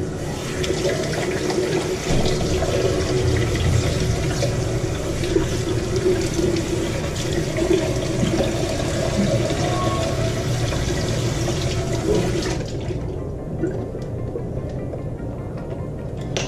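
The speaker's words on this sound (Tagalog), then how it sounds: "then wash your face again." Tap water running steadily into a bathroom sink while a face is washed during a skincare routine, a continuous close rushing splash that quiets abruptly near the end.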